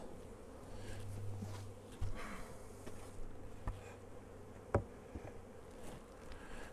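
Honey bees buzz around an open hive box while a colony is split for swarm control, a steady dense hum close by with a few light knocks and handling sounds.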